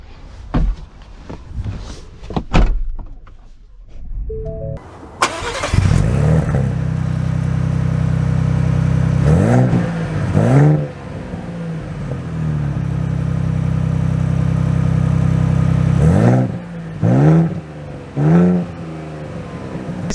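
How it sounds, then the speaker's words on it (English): A 2023 Ford Bronco Raptor engine starts and settles into a steady, loud idle-to-drive rumble, with a few sharp revving surges rising over the continuous drone as the SUV sets off, after some quieter handling clatter at the start. "So setting off in the Bronco Raptor"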